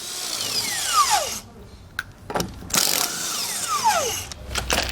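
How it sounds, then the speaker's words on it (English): An impact wrench or power tool spins lug nuts off a single-axle trailer wheel using a 3/4 socket, with several whirring bursts that rise and fall in pitch, separated by brief pauses, close and fairly loud. "we'll then remove our lug nuts. We're using a 3/4 socket to do so."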